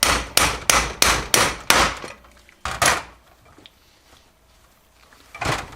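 An old oil pump bushing is hammered out of a C6 transmission for a 1980 Ford F-350 service truck using a driver kit: a rapid run of six sharp metallic blows, a pause, one more strike, then a final hit.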